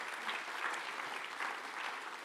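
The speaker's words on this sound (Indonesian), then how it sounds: "Kasih tepuk tangan buat Tuhan Yesus" A church congregation applauds in a steady wash of clapping, fairly quiet and distant, with no talk over it.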